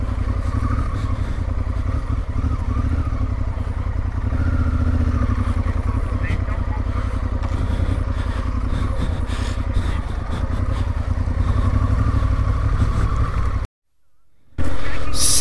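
A big trail adventure motorcycle rides off-road on a sandy single track, its engine droning steadily and close with rattling clatter throughout, broken by a brief dropout near the end.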